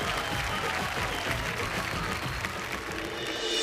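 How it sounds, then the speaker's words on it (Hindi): Studio audience applause on a Hindi TV reality show, a steady wash of clapping hands throughout, fairly even and moderately loud. "सारी तालियां"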